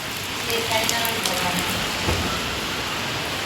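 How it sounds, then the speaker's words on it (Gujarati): Steady rain hisses on surfaces nearby, a continuous wash of patter, with a voice speaking faintly over it. "આજે વરસાદ પડે છે."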